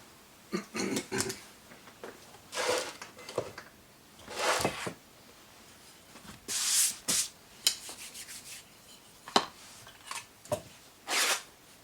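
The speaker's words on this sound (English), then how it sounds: "Final sand in." A homemade guitar fret levelling file gets its final sanding, heard as a series of separate close-up rasping strokes in irregular bursts with short quiet gaps between them.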